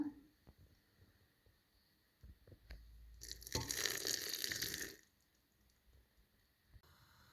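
Hot water poured from a kettle into a bowl to thin a spoonful of tomato paste, a faint splashing pour lasting about two seconds, with soft clicks and clatter before and after.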